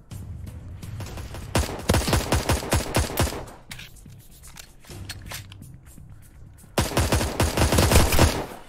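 Rapid bursts of gunfire in a Roblox game duel, two loud volleys of repeated shots separated by a quieter stretch of background game sound.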